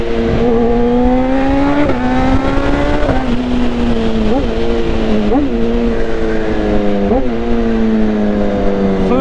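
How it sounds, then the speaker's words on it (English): A BMW S1000RR sport motorcycle's engine roars loud and close throughout, holding a steady high drone with several brief rev surges and gear-change dips, with wind rush underneath. "This bike is seriously loud, mate."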